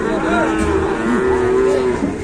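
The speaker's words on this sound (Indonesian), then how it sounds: "Waduh, dari belakang ada sapi ngamuk." Agitated cow mooing loudly nearby on a farm, one long drawn-out low bellow with wavering pitch over a steady background.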